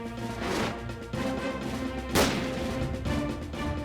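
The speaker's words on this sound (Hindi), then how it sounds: "ये गोलियों की आवाज क्यों आ रही है?" Gunfire coming from a television playing in the background: a few muffled crashing bangs and thumps under a busy, dense soundtrack, moderately loud and somewhat distant.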